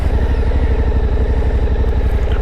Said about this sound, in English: the startup's quite nice on this bike. It's a one touch on the electric.